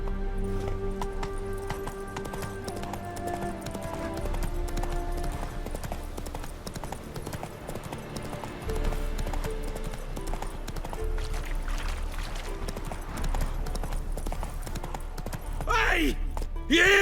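A horse gallops with steady clip-clop hoofbeats in The Witcher 3: Wild Hunt, running continuously under game music and spoken dialogue, ending with a whinny.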